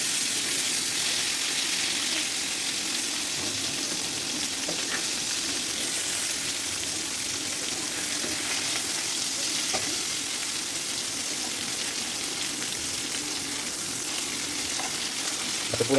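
Bhaji frying in hot oil, a loud, dense and continuous sizzle with occasional faint clicks as pieces are turned so they do not burn, with no voices.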